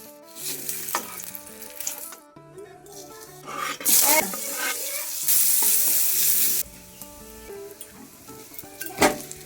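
Pointed gourd (potol) frying in plenty of oil in a home kitchen, a steady sizzle with stirring scrapes and a few louder bursts, mixed with background clatter.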